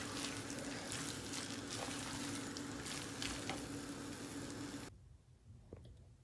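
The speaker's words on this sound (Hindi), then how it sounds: "ये डाल के मैं मिक्स कर लूँगी" Coriander and tomato mixed into masala potatoes for a dosa filling, with a continuous close frying sizzle and soft stirring scrapes that cut off abruptly near the end.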